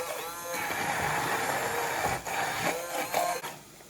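Blender whirring steadily as it emulsifies a tomato pasta sauce for pasta e ceci, a continuous motor drone with slight dips in pitch near the end.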